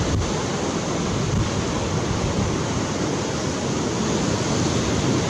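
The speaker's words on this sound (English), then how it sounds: "Seeing the waves go by this lit up spot." Ocean waves roll onto a beach at sunrise in a steady, unbroken wash of surf with some wind rumble on the microphone, loud and continuous throughout, with no voices.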